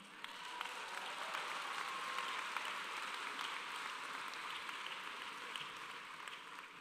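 Faint, steady applause fills the space at a medical college commencement ceremony, a soft, even wash of many hands clapping at a distance, with no talking over it.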